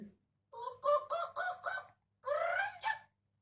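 Chicken clucking and crowing in a short burst of repeated calls, then a second longer call, fairly close and clear with no talk over it.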